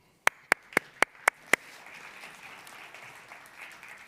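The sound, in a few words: applause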